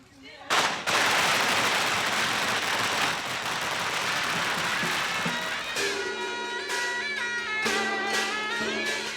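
A rapid, loud string of firecrackers crackles and pops for several seconds, then fades as music with sustained tones takes over.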